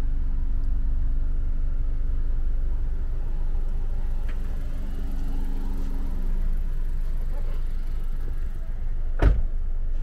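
Power sunroof motor on a 2019 Honda CR-V whirring with a steady hum inside the cabin, then sliding down in pitch as it stops, followed by a sharp click near the end.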